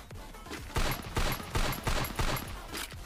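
Rapid gunfire from a gun in Free Fire's Clash Squad mode, a string of sharp loud shots in quick irregular bursts, close and punchy.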